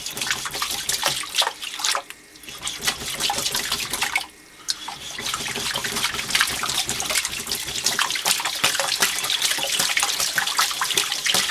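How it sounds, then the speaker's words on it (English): Wet scraping and swishing of a blade being lapped in circles and figure eights on a Norton 4k/8k waterstone with light pressure, a steady gritty wash near the microphone with two brief pauses. "So this initial lapping, I've got just a little bit of pressure going on there"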